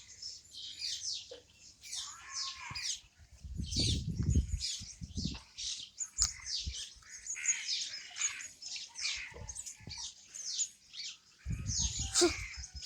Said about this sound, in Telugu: కాకులు వచ్చాయి.